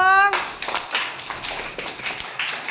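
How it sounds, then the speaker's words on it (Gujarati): A group of children clap their hands together in quick, uneven bursts of sharp claps, close by, after a short tone at the start. "ચલો તાળી પડો"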